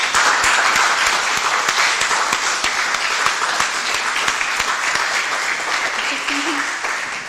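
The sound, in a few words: audience applause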